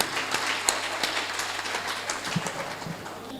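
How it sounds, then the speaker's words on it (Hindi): At an international poetry gathering, an audience gives soft, scattered applause, with faint, uneven claps that sound distant and light. "जोरदार आपकी ओर से तालियां आनी चाहिए"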